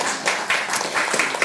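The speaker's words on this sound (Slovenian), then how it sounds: "Ja, en aplavz, prosim." Audience applause at a live Slovenian music show following a singer's performance, steady broadband clapping from a crowd, fairly close and sustained for a moment without voices.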